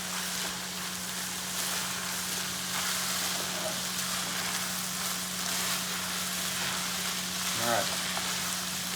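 Mushrooms fry with a steady, even sizzle in a pan for lasagna, broken by occasional scraping as they are mixed, with a faint voice heard briefly near the end.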